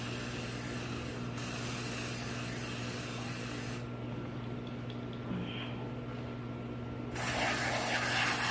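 Cleaner sprays steadily onto a dirty motorcycle chain while the back wheel is turned by hand, a continuous close hiss lasting several seconds with no talk.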